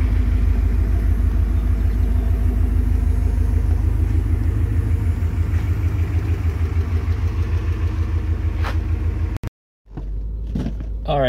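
The all-stock V8 of a 1986 Porsche 928 runs at a steady idle, a close, loud, even low rumble with a fine pulsing beat, broken by a brief cut near the end before the idle resumes.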